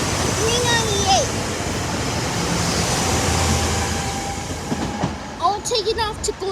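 A commuter train rolls past at a railfanning spot in Elkins, a loud continuous rumble that fades toward the end, with brief squeal-like tones and some distant voices near the close.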